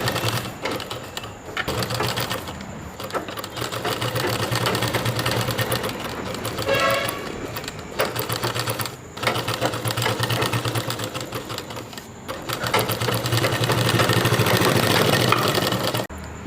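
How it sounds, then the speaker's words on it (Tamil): A sewing machine stitches a sleeve onto a two-year-old's baby dress in loud bursts of rapid mechanical whirring, pausing briefly between runs and speeding up near the end. "இப்போ நம்ம வந்து நான் தைச்சி கட்டுறேன்"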